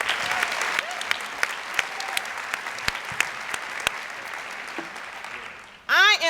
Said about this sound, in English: Tammy, stand up so we can give you a round of applause.